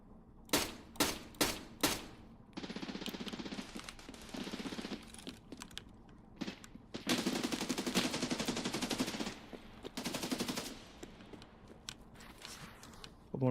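Rapid bursts of video-game gunfire crack out loud and close, first as a few sharp separate shots, then as long sustained automatic volleys, with voices talking under them.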